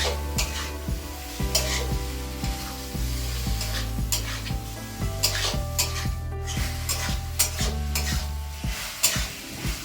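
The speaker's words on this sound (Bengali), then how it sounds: "ভালো করে কষে নিতে হবে মিনিট 3-4।" Banana flower with prawns sautéing in a pan, potatoes and eggplant added, a steady loud sizzle with repeated scraping stir strokes and pan clatter throughout, no talk.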